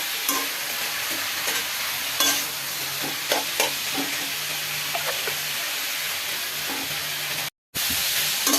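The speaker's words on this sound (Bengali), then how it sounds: "ওখানে দিয়ে একটু ভাজা ভাজা করলাম" Red amaranth greens sizzle and crackle steadily in a hot pan, with repeated scraping and stirring strokes and a short break near the end.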